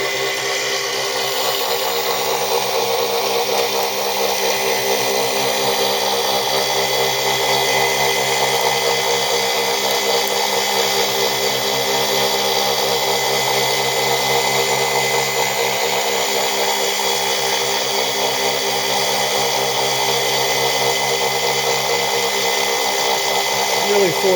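A 6-pole ZFM electric motor fitted with twin opposing neodymium magnets spins at close to 4,000 RPM, making a steady, loud, continuous whine and hum that runs unbroken from start to end.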